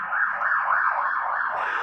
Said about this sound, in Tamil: இந்த சைரன் சத்தம் கேட்குது பாருங்கள்